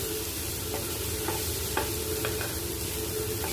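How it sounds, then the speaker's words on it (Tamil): Egg rice being stirred in a frying pan over steady sizzling, with a few light scrapes of the spatula against the pan and no voices. "முட்டை வந்து இந்த மாதிரி லைட்டாக குக் ஆனதுக்கப்புறமா நீங்கள் வந்து அதை வந்து கிளறி விடுங்க"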